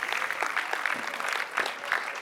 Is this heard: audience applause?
yes